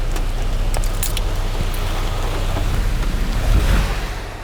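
Steady rain falling on a street beside a parked Jeep during flooding, a dense continuous patter with a low rumble underneath, fairly loud and close, swelling slightly toward the end.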